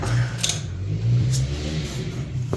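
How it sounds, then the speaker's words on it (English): A worn-out Colorado's engine runs rough at close range, with an uneven low throbbing hum and a slight rise and fall in revs. No one speaks. "this poor engine's rough"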